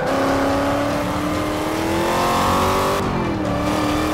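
A Chevrolet Camaro races in Forza Motorsport 5, its engine tones rising steadily as it accelerates, loud and continuous, with a brief shift in pitch near the end.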